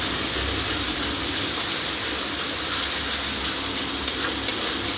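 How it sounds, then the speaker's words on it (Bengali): Vegetables are stirred and mixed in a cooking pan over a steady sizzling, hissing background. A few soft scrapes and clinks come near the end. "এবার এগুলোকে ভালো করে মিশিয়ে নেব, নাড়াচাড়া করে।"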